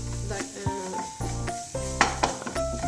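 Garlic and black pepper are heated in a pan, with a soft sizzle under a tonal hum, punctuated by several sharp scrapes and taps of a spoon.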